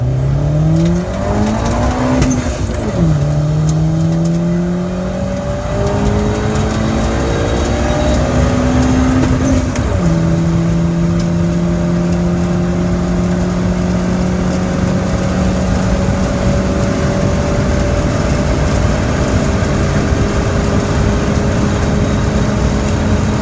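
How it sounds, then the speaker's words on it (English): A hatchback car accelerates hard in third gear toward 125 mph, its engine note climbing steadily after gear changes near the start, loud and continuous with wind and road roar throughout. "Third gear does in fact hit over 125. Here is a little video clip for you guys of that."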